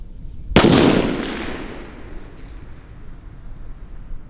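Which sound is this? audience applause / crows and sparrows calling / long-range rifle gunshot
long-range rifle gunshot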